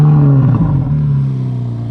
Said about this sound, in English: Steve is going to do me a grand favor and start it up while I have the camera right next to the